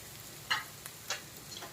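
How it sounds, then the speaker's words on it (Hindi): Onions fry softly in a pan, a faint sizzle broken by a few short scraping stirs of a utensil, close and quiet with no voices. "प्याज को थोड़ा अच्छी तरह से भून लें।"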